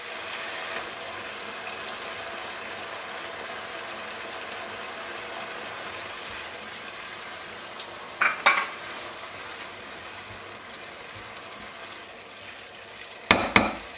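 Tomato paste sautéing in a pan for monkfish rice: a steady soft sizzle and frying hiss throughout, broken by two brief clattering scrapes of a utensil against the pan.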